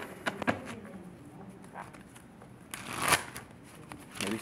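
Tarot cards being shuffled by hand, a close series of soft riffling and slapping bursts with short pauses between them, no voice.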